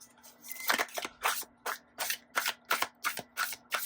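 Tarot cards are shuffled in quick repeated riffles, about eight crisp bursts of card flutter in a steady rhythm. The sound is close, clear and without talk.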